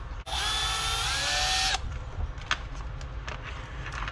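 A power drill or driver whines steadily for about a second and a half as it backs out the steering tie rod screw on the front end of a Traxxas Rustler RC truck, followed by faint clicks and handling noises.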